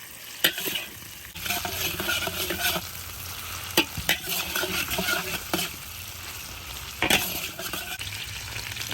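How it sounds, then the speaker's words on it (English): Chicken pieces for spicy fried garlic chicken frying in a pan while being stirred, a continuous sizzle broken by sharp utensil clacks and scrapes against the pan, close and unbroken by speech. "we're gonna cook 8 to 10 minutes and keep stirring"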